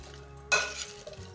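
Sharp cheddar cheese and drained bacon being mixed in a bowl, a single sharp stir with a utensil clinking against the bowl followed by a faint softer scrape, quiet and close with no talking.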